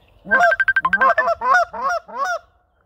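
A goose call blown at low airflow sounds a run of short honking notes, about six or seven, close and fairly loud, softly voiced with a breathy, muted tone.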